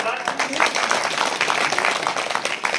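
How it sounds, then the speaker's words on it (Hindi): A crowd at a Hindi comic poetry recital bursts into dense, steady applause, a loud continuous wash of many hands clapping together from start to finish, with some voices mixed in. "आप जोरदार ताली बजा दे एक बार"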